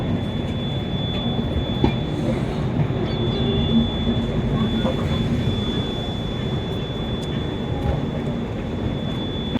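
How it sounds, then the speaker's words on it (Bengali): The Sealdah–New Delhi Rajdhani Express rolls out of Sealdah near Narkeldanga cabin, heard from inside a 2nd AC coach as a steady low rumble with scattered wheel clicks and a thin high whine throughout. "আর আমাদের ট্রেন এখন ক্রস করছে নারকেলডাঙ্গা কেবিন।"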